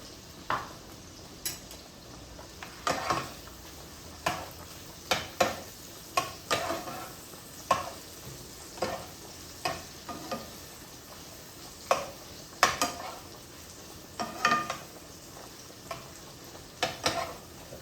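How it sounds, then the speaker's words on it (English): Sausages browning in a pan give a continuous close sizzle, punctuated by frequent sharp clacks and scrapes as a utensil stirs and knocks against the pan. "These sausages are still browning, so I'm gonna just let it finish."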